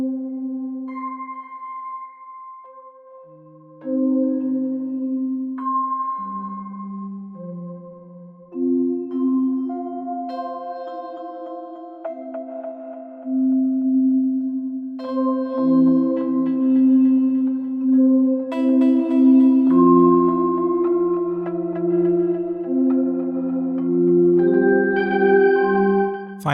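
A Plankton arpeggiator synth plays its Drone Slow Chaos patch: slow, sustained tonal notes shift and layer into a gradually thickening drone, getting louder after a quiet start.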